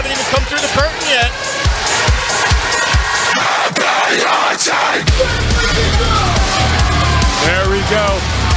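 Loud live wrestling crowd cheering and yelling during team entrances, with rhythmic stomping or clapping beats early on, then a dense roar of voices and shouts mixed with music, close and continuous.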